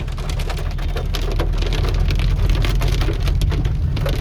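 Heavy rain pours down on the road to Badrinath, a loud, dense patter of drops hitting surfaces close by, steady and unbroken throughout.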